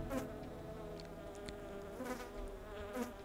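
A fly in the video game The Plan, a faint, wavering insect buzz that swells and fades in soft pulses over a low ambient background.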